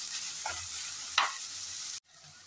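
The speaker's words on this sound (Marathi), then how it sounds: "आपण आता हा कांदा चांगला तेलात फ्राय करून घेऊया" Onions frying in oil for egg bhurji give a steady, close hiss, with a couple of brief stirring scrapes before the sound cuts out near the end.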